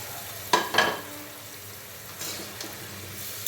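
Bitter gourd dropped into hot oil for a shrimp curry, a sharp burst of sizzling followed by a steady frying hiss, close by, with no talking.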